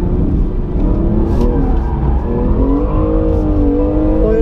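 BMW M2 Competition revving hard while drifting through a tight corner on a kart track, a loud, close engine roar with rising and falling pitch and tire whir.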